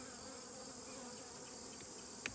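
Honey bees hum inside an opened hive, a dense steady buzzing drone with a brief tap near the end and no voices.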